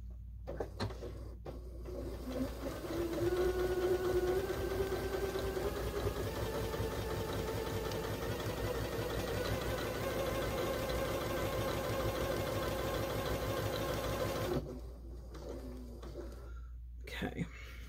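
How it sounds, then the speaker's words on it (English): A sewing machine stitches steadily along the seam of a fabric Christmas pillow, a continuous mechanical whir with a fine regular rhythm running for most of the stretch before stopping near the end. "I'm going to try to sew right on the seam that I already had on there"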